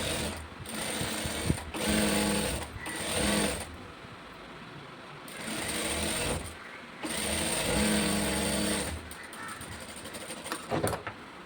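A sewing machine stitches blouse lining fabric in several bursts of rapid mechanical whirring, separated by short pauses and ending in uneven stops.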